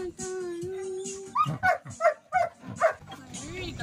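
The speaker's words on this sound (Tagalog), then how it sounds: "Itong asong hawak-hawak ng ate is si Riri." A small dog whimpers in a long whine, then gives a quick series of short yips and barks, close by, with a person talking nearby.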